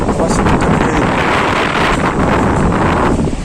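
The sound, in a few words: strong wind at the beach, microphone wind noise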